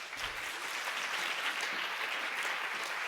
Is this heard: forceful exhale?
no